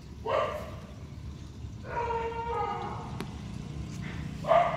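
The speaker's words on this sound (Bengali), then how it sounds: "তো দেখো কুকুরগুলো কীরকমভাবে ডাকছে," Several dogs bark and yelp at night near a roadside stop. The bursts are repeated and fairly close, with a quieter background hum between them.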